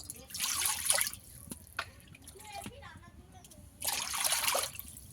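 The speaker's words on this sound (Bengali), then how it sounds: "উনুনে কড়া বসিয়ে দিয়েছি, কড়াতে প্রথমে জল দিয়ে দেব।" Water poured into a kadai set on a stove for boiling eggs for an egg and cauliflower curry, heard as two separate splashing bursts of pouring with a quiet pause between them.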